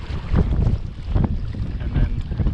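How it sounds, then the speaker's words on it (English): Strong gusty wind buffeting the microphone on a waterside fishing spot in Dundee, a loud, continuous low rumble with surging gusts and no clear speech. "this wind is hectic"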